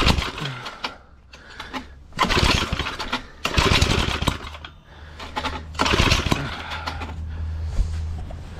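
A cheap petrol garden tiller bought for 20 euros sputters and revs in repeated bursts as its engine tries to catch, each loud mechanical churn dying back to a rattling idle in between.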